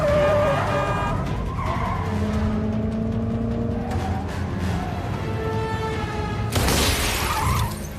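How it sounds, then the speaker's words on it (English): Film car chase through crowded London streets: continuous engine roar with long tire squeals and skidding, building to a burst of crashing, shattering noise near the end over a dense music-like bed. "A high-speed pursuit tears through the crowded streets of London."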